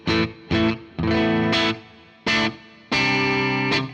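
Six separate bright guitar chords through a Boss WAZA Tube Amp Expander plate reverb ring out one after another, each followed by a smooth, shimmering reverb tail that fades between strikes.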